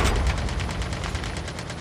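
Rapid automatic gunfire in Call of Duty Mobile battle royale, a steady stream of quick repeated shots at moderate loudness, as if from some distance, with no talk over it.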